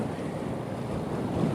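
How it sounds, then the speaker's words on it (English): Strong wind buffets the microphone at the shore by a pier trestle, a dense, continuous roar mixed with surf wash, with no voices. "It's not very rough, it's very windy."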